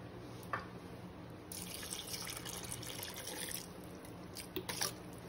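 Water poured from a container into a pressure cooker holding minced meat, lentils and whole spices, a quiet steady stream with splashy bursts and drips, heard alone.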